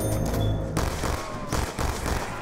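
Rapid bursts of gunfire from a weapon in Black Ops 2 Zombies, loud and continuous, with repeated shots rolling over one another for the whole stretch and no talk over it.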